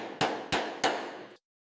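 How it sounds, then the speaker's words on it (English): A slide hammer striking a dented motorcycle fuel tank to reshape the metal, three sharp evenly spaced metallic blows, each with a short ringing decay, then silence. "We're using a slide hammer to massage the metal back to its original curve."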